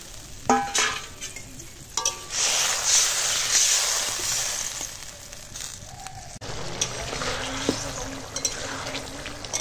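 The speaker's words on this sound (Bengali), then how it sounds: "এবার দিয়ে দিলাম জল।" Water is poured into a pan of cooked-down spice paste for a fish curry, bringing a hissing sizzle and bubbling with stirring scrapes close by and no talk.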